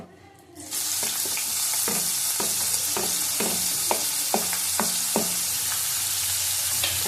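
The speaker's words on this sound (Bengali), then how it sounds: "পেঁয়াজ কুচানো দিয়ে দিলাম ভালো করে ভেজে নেব" Chopped onion hits hot oil in a pan with a sudden loud sizzle that then holds steady and close, broken by repeated scraping stirs and clicks of a spoon against the pan, with no voices.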